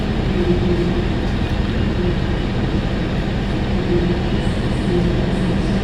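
A steady low rumble of the Cikuray economy train, with stainless steel cars, idling at a platform, with a faint hum and distant station ambience, no talking.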